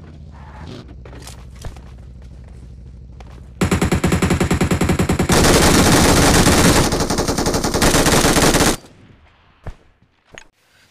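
An MG5 machine gun fires in PUBG, a loud, dense, sustained burst lasting about five seconds that follows a few quieter shots and footsteps, then gives way to scattered faint sounds.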